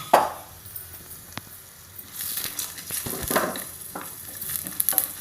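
Cardamom, cinnamon, cashews and onions fry in a pan for browntop millet tomato rice, a sizzle that swells after a quiet start, broken by spoon scrapes and clinks close by.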